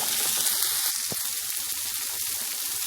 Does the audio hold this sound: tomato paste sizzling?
yes